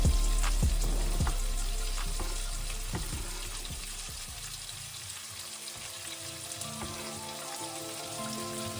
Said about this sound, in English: And I think now it's time that I add the onions.